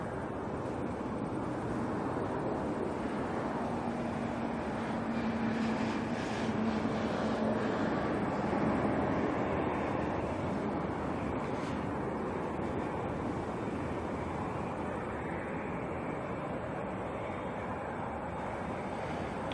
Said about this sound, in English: China Southern coming out in their 789.